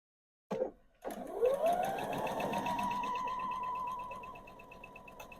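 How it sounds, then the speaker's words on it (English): A sewing machine stitches quilt strips together: a brief click, then the motor winds up into a steady, continuous close-up whir that holds for several seconds, with no talk. "So I'll keep sewing these"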